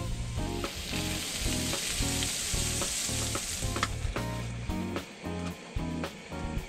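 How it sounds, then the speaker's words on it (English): Bacon sizzles and crackles steadily in a hot pan on a skottle outdoors, close up, with dull clunks of stirring and scraping throughout. "the bacon's cooking"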